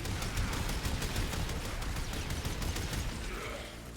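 Rapid, dense shotgun fire from the Kuva Sobek in the video game Warframe, a sustained loud barrage of overlapping blasts for about four seconds, tapering slightly at the end.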